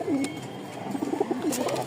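Pigeons coo close by in soft, low, rolling calls, repeated several times with little else around.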